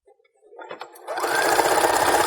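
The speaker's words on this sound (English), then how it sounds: "And just keep sewing." A sewing machine stitching lace onto a fabric strip skirt starts with a few clicks and then settles into a steady, close, loud whir.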